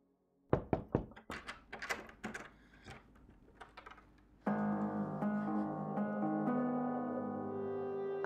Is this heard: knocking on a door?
yes